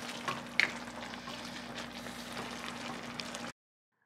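Steak and pasta cook together in a creamy sauce, a quiet steady sizzle and simmer with a couple of soft clinks from stirring, then abrupt silence.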